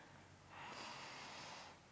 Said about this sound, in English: I take a long, deep breath into my nose.